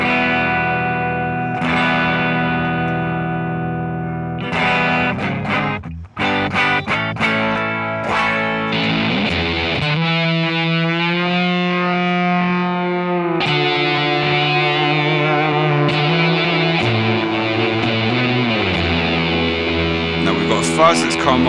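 An electric guitar played through a fuzz patch on a BOSS GT1000 effects unit into a cab simulation, with sustained distorted chords and notes, loud and close throughout, no talk.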